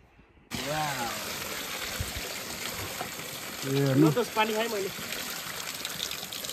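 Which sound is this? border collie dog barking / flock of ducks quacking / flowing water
flowing water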